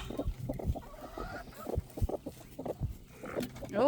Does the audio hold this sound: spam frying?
no